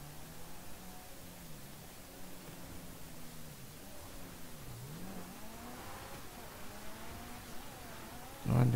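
A car engine in the video game GTA V accelerates at a distance, faint rising and falling revs over a steady hiss of road and wind noise, ending in a short louder burst.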